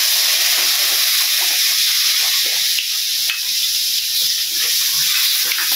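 Cumin and spices hiss loudly in oil left over from frying fish, a strong, steady sizzle that dips briefly midway and carries on without talk.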